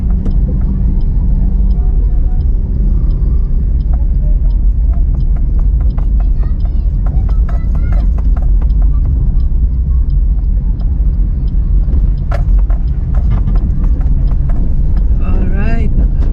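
City street traffic in Cagayan de Oro heard from inside a moving car, a loud steady engine and road rumble with passing vehicles and occasional horn-like tones, a voice speaking over it.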